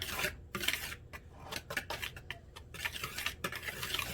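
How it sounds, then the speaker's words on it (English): Dry pancake batter ingredients being stirred in a bowl produce repeated scraping, rasping strokes in an uneven rhythm, close and quiet, with no talking. "We are just going to stir this about here."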